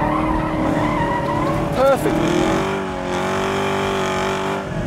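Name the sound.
Camaro SS 1LE driving on race track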